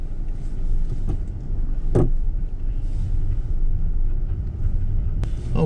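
A car driving on a road through Indian Hills in Frankfort, Kentucky, with a steady low engine and road rumble heard from inside the cabin and a few faint knocks.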